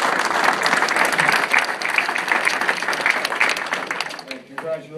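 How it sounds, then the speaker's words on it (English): A room at a township reorganization meeting fills with dense, loud applause from the crowd, clapping steadily before tapering off, with voices emerging near the end. "another round of applause for them"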